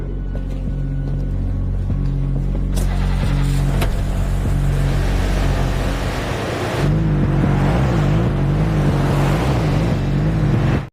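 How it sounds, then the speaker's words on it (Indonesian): Car driving toward a harbour in a small town in a film scene, a steady loud engine drone with a tonal shift partway through and no talk. "mobil yang ditumpangi Rafa pun tiba di sebuah pelabuhan di kota kecil"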